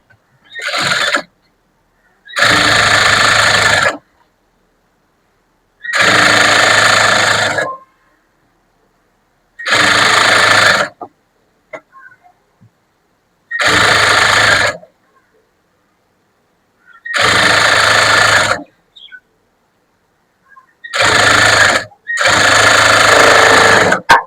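A sewing machine stitches a folded two-inch hem on a cut blouse edge, running in eight separate bursts of one to two seconds each with short silent gaps between, loud and close with no talk.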